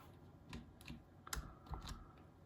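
Quick, quiet bursts of typing on a computer keyboard, several soft key clicks in uneven succession, close by with no talking.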